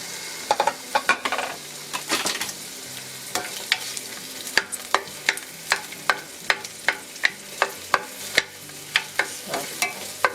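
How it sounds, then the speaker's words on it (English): Garlic and onions sauté in a hot pan, a soft sizzle punctuated by a steady run of sharp, rhythmic utensil scrapes and taps as they are stirred. "I'm gonna go ahead and add my garlic and some onions."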